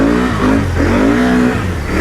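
A four-wheel-drive truck revs its engine hard while churning through thick mud on a mud-park trail, a loud, continuous close-up roar with rising and falling pitch as the throttle surges.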